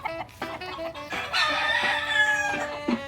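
A rooster on a poultry farm crows loudly and close, a long drawn-out cock-a-doodle-doo rising in the middle, with shorter clucks and calls around it and no talking.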